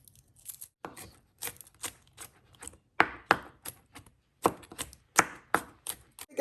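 Knife chopping ingredients for beef and broccoli on a cutting board, a series of sharp, close, irregularly spaced chops with short pauses between them, no talking.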